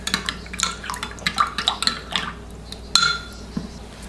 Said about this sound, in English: we're going to put in the Creole seasoning into here. And then we're going to stir it up.